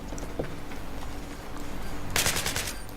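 Machine gun fire in Battlefield 3 comes as scattered bursts under a low engine hum, with a loud, dense burst of rapid shots near the end.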